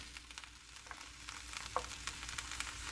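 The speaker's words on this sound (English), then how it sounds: "We're gonna let these try and sear a little bit." Halved carrots sear in a pan on turned-down heat, giving a quiet, crackling sizzle with small pops scattered across a few seconds.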